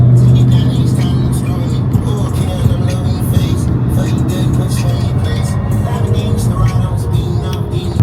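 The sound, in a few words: car driving off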